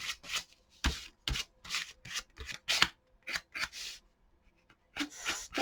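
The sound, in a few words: credit card scraping paint in an art journal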